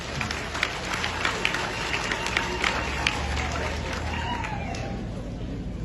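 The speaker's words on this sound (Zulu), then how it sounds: "Bengizoshaya ihlombe leyo." Crowd applause at an outdoor community crime-fighting meeting in uMzingazi, a steady dense patter of clapping lasting throughout with crowd murmur beneath.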